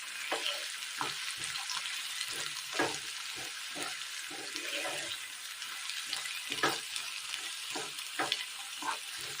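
Green peas tossed into hot oil with mustard seeds, stirred in a pan for a spicy Kerala dish: a steady close sizzle broken by repeated soft scrapes and clicks of the spoon at an uneven rhythm, with no talking.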